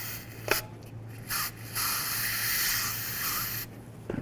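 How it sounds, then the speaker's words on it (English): Brake parts cleaner sprays from a can while rear brakes on a 2005–2016 Ford Mustang are cleaned: two short hissing bursts, then one long, steady, loud spray lasting nearly two seconds, with no talking. "Teeny bit more parts cleaner."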